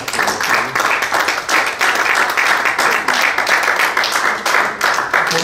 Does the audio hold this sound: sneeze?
no